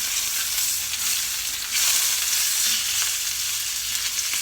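Osso buco shanks frying in a pan until light brown, giving a steady, close sizzle with faint stirring noises throughout and no voices.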